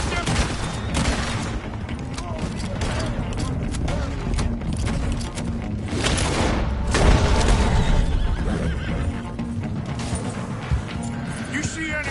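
Horses neighing in the video game Red Dead Redemption 2, mixed into busy gameplay sound with gunfire, hooves and voices talking throughout.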